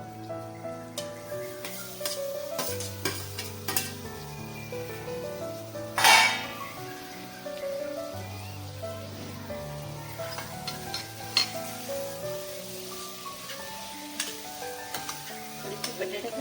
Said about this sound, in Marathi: आता ही केळी टाकूया